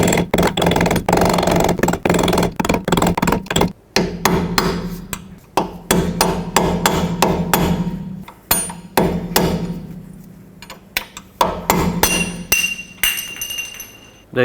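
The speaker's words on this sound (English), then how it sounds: "Take a screwdriver or anything that fits in there and hammer on this outer lip here." Repeated metallic hammer blows drive a screwdriver against the lip of a rusted hub cap on a 2009-2013 Honda Fit rear wheel hub, ringing clinks in irregular bursts with short pauses, close and loud.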